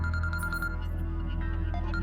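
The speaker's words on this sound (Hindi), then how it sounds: "फोन आ गया" A telephone rings in a Pakistani drama scene with a repeating electronic trill in quick pulses over a steady low background hum, fading partway through.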